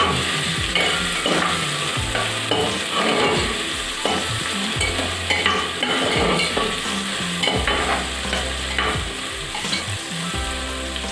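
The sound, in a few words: ginger garlic paste frying and being stirred in oil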